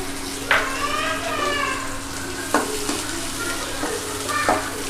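Onions dropped into hot oil in a kadai while cooking kadai sabji, giving a steady sizzle with a few sharper stirring scrapes; a voice speaks faintly over it.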